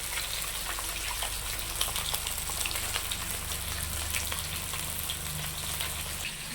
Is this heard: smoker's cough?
no